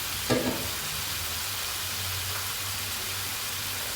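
Grated carrots fry in a pan with a steady, fairly soft sizzle that holds for the whole stretch, after a brief clatter near the start.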